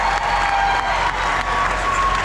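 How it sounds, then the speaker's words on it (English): Crowd at an Irish dance festival breaks into loud, sustained applause mixed with cheers, a dense steady roar of clapping filling the whole moment. "How about another big round of applause for Kiever Whitehead?"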